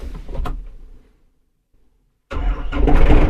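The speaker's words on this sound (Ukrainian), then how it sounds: "Я вам продемонструю, як працює сам тракторець" A small Yanmar AF 650 tractor engine cranks and sputters, falls silent for a moment, then catches and roars into a loud, rough idle close by.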